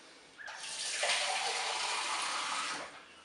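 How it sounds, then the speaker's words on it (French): Water pours into a Cookeo multicooker pot over eggplant and rice, a steady splashing gush that starts abruptly, holds for about two seconds, then tapers off. "Et puis, je vais ajouter l'eau."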